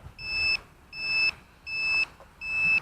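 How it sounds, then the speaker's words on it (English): Timer alarm on a Cheerson CX-20 quadcopter after ten minutes of flight, four evenly spaced high-pitched electronic beeps, each about half a second long, clear and close with quiet gaps between. "Let's turn this alarm off."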